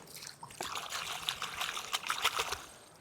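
Water trickling and pouring over live Sundarbans crabs as they are washed, a close, uneven splashing stream with small bursts and drips.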